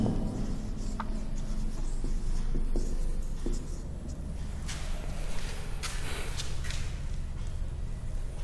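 Chalk or marker writing out a trigonometry height-and-distance problem on a classroom board, a steady scratchy scraping with a few sharp taps against constant room noise, with no talking.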